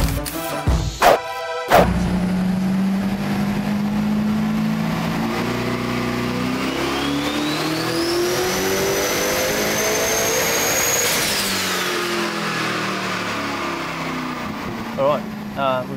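Engine of a 2000HP ute revving on a dyno, a loud sustained roar that climbs steadily in pitch, peaks and drops off, with a few sharp bursts at the start and a person talking over it.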